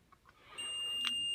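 A multimeter set to buzzer (continuity) mode, testing a roughly 8-ohm speaker, gives a steady high-pitched electronic tone that starts after a brief quiet moment and holds to the end, clear and close.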